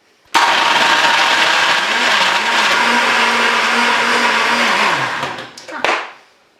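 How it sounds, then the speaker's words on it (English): A blender whirs loudly for about five seconds blending a banana rum tea drink, its motor pitch wavering as it churns, then winds down and stops. "So now we're going to go to the blender."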